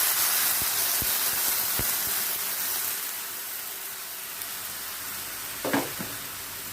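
Lentil dumplings (bori) frying in oil in a pan, a continuous soft sizzling hiss with a few faint clicks and a brief clatter near the end.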